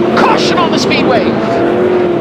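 World of Outlaws sprint cars circling Bakersfield Speedway, a loud, continuous engine drone with shifting pitch sweeps as cars pass, under an announcer's running commentary.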